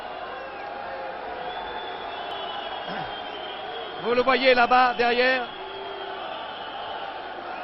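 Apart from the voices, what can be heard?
crowd whistling at wrestler at Cirque d'hiver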